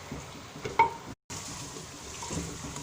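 Cumin roasts with potatoes in hot oil, giving a steady soft sizzle with occasional stirring scrapes, broken by a brief silent cut partway through.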